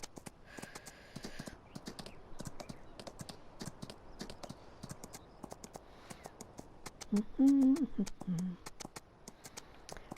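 Horse hooves clip-clop steadily on a farm in an even, repeating rhythm, close to the microphone, with a brief low whinny or snort near the end and no talking.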